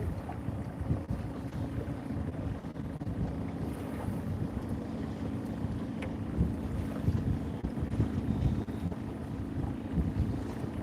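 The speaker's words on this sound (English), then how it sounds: "This wind is friggin' killer." Strong wind gusts across open water, buffeting the microphone in a constant low rumble with irregular surges, steady and close throughout with no voices.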